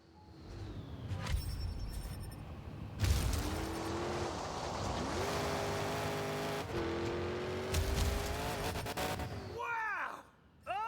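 Monster truck engines in the video game Monster Jam Showdown roar and rev, their pitch sweeping up and down in long surges, loud and continuous before dropping away briefly near the end.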